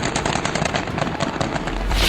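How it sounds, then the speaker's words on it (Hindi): Rapid bursts of gunfire in a clash between the Taliban and Iran, a dense loud crackle of repeated shots with no talk, swelling louder toward the end. "गोलियां चलने लगी।"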